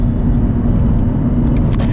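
Audi R8 V10 with a manual gearbox cruising in fourth gear at about 40 mph in winter; a steady, loud low engine and road drone fills the cabin without a break, with faint higher hiss near the end.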